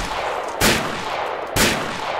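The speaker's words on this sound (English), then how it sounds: "Open fire." Gunfire in the Fallout 3 video game: two loud, sharp shots about a second apart over a steady background rumble, with no talking.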